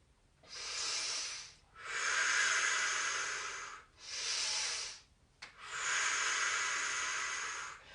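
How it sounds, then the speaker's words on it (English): Slow, deep breaths close up, four long airy inhales and exhales in a steady rhythm with short pauses between them, no talking. "I can hear you breathing deeply"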